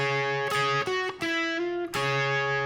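A distorted electric guitar plays a short phrase of double stops from a solo, bending and sustaining, with two bright struck chords ringing out near the start and end.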